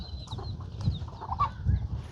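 Chickens cluck on a farm, a few soft broken clucks close by over low rumbling background noise.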